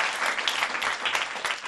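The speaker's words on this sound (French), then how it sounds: "Applaudissez pour lui." A classroom of children clapping for a pupil, a brief burst of dense, close applause that holds steady for under two seconds.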